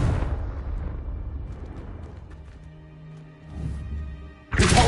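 The Confringo spell goes off in a Hogwarts game with a rumbling blast, its boom fading into a low hum, followed by a sharper burst at the close.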